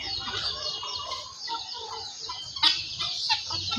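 Chickens cluck and a turkey gobbles nearby, with helmeted guineafowl among the flock, a busy overlapping chorus of poultry calls with sharper squawks breaking through.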